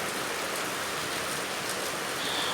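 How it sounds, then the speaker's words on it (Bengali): Heavy rain pours down steadily, a dense, continuous hiss of water drumming on surfaces with no voices present. "কিন্তু যা বৃষ্টি, তো বন্যার পরিস্থিতির মতো।"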